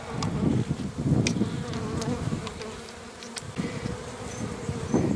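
Dense, continuous buzzing of many honeybees close by at a hive, a loud droning swarm with individual bees zipping past, no talking.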